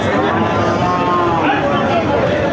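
Sindhi breed dairy cow with her calf at a busy cattle market, lowing amid constant crowd chatter and background noise, with voices talking throughout.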